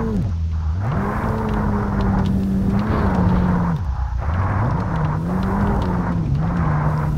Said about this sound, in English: that was a rally car.